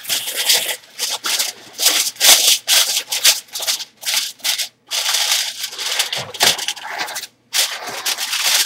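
Aluminum foil crinkles and rubs in repeated bursts as it is pressed over a dish of vegan pear and apple stuffing, loud and close, with short pauses between handlings.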